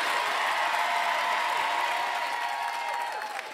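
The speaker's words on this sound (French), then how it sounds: "On applaudit très très fort Monsieur Jarry" A TV studio audience on the Christmas special of Les 12 Coups de Noël breaks into loud, continuous applause with some crowd cheering, a dense and steady roar of clapping that stays at full level before easing slightly at the end.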